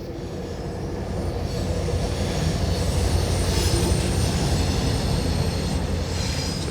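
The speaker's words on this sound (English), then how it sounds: "It's a passenger train, and it's northbound" A northbound passenger train passes at night, a loud, continuous rumble of rolling wheels and rail noise that swells after the first second and holds steady throughout.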